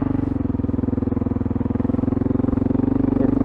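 Honda XR650L motorcycle ploughing through deep sand, a steady rapid thumping single-cylinder exhaust pulse close up, loud and constant with a faint clatter near the end.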